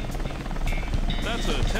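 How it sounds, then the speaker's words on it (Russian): Steady helicopter rotor thrum from the video game Sonic Adventure 2: Battle, loud and constant, with a voice over it. "Это вертолет."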